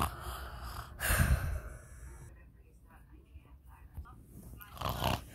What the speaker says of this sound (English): Can you stop snoring for 1 second?